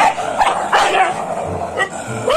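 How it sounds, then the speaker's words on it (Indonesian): Game dog barking and yipping in short bursts, a few close yelps spread across the moment with faint background sound and no talk. "Wow, ini anjing."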